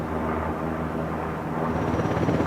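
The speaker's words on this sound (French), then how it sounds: "cet hélicoptère a la capacité de faire des loopings avec son rotor rigide" An Airbus Tigre attack helicopter with a rigid rotor performs a flying display at the Paris Air Show, its engine and rotor roaring steadily and loud, without voices.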